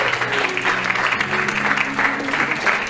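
Wedding banquet guests applauding the couple's entrance, steady dense clapping from a crowd sustained throughout, filling the room.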